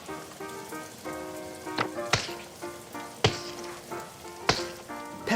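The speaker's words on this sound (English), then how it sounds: "That sounds like rain, says Peppa." Cartoon rain sound effect: a steady patter of plinking, tonal drops, broken by a few sharp, louder splashy hits, with no voices.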